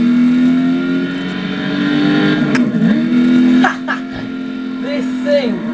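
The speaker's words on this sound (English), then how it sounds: "you end up in a cloud of smoke because the rear wheels are spinning up" Ford Shelby Mustang GT500 engine droning at sustained high revs with rear wheels spinning, loud and steady, then dipping and rising again, with someone talking over it.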